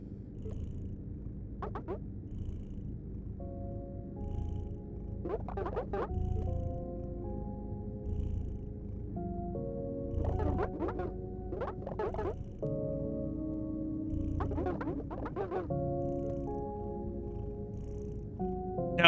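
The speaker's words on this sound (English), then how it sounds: "you can still hear the purring" Soft continuous cat purring from an incremental video game, a low steady rumble running throughout beneath gentle sustained musical tones, with no talking.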